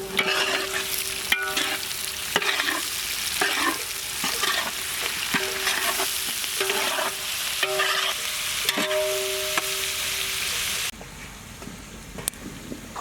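Sliced onions sizzle steadily in hot oil in a pan for a goat head curry, with repeated clinking stirs of a spoon. Near the end the sizzle drops suddenly to a quieter hiss, and no one speaks.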